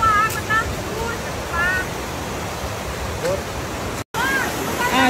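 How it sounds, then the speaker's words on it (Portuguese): A farm waterfall, its water muddied after rain, pours in a continuous loud broadband roar, with brief high whistling calls or voices rising over it and a momentary dropout. "Aí ficou suja a água da cachoeira, ó!"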